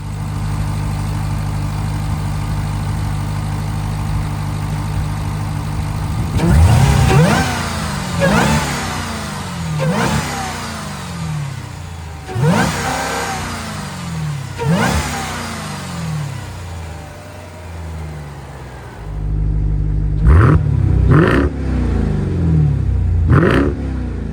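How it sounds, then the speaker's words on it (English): A 710-horsepower 2023 Dodge Durango Hellcat SUV engine idles, then revs hard several times in repeated bursts, a high supercharger whine rising over the deep exhaust roar, close and loud. "You can hear the supercharger whine and the exhaust sound."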